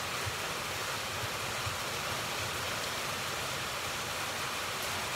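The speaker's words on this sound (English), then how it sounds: "the noise that you hear aside from my voice is the rain hitting the metal" Rain drumming on the metal of a building in heavy weather, a dense, steady hiss and patter that fills the whole clip evenly, close and fairly loud, with no talk.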